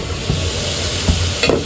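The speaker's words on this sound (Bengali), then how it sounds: "আমি মশলাটা কষিয়ে নিচ্ছি।" Spice paste of turmeric, chili powder, salt, ginger-garlic paste and onion stir-fried in a pan, giving a steady close sizzle with a few soft scraping strokes of the spoon, no voices.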